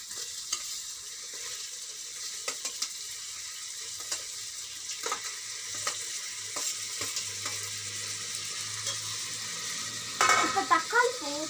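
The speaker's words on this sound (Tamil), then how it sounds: "இப்போ தக்காளி போட்டாச்சுன்னா நல்லா ஃப்ரை ஆகும்." Tomatoes fry with ginger garlic in a pan for a peas potato kurma, making a steady bright sizzle with scattered stirring scrapes and taps, then a short burst of bubbling and clatter at the end.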